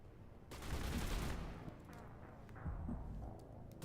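Sci-fi combat in Mass Effect: loud sustained bursts of gunfire, a dense volley followed by a second, slightly weaker burst, close and without speech.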